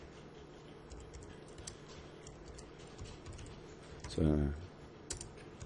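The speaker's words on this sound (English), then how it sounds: "And now I type in my comment." Fingers type code into a computer keyboard in quick, steady clatter at close range over a low room hum, with a brief spoken word near the end.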